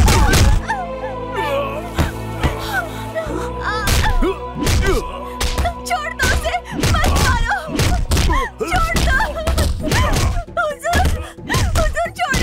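Punches and heavy thuds land on a man in a fight scene inside a mansion from a Hindi-dubbed South Indian action film, a rapid irregular string of loud sharp blows over a sustained music bed.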